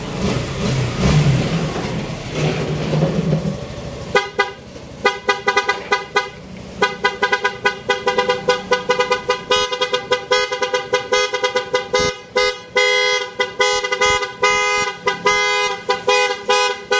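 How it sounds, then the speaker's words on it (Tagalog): The stock horn of a Suzuki Gixxer 155 motorcycle sounds in a long series of loud, close honks, some short toots and some held blasts, after a stretch of engine noise at the start. "So meron din siyang stock horn."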